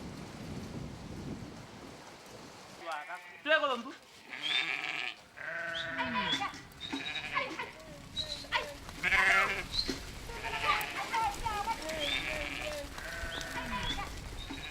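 Goats bleat repeatedly at close range by wells dug in a dry riverbed in the desert during the dry season, with cattle gathered nearby and steady rain-like background noise underneath.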